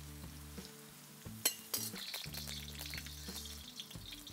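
Okra and onion fry in hot oil for a bindi do pyaza side dish, giving a steady close sizzle broken by sharp clinks and scrapes of a utensil against the pan.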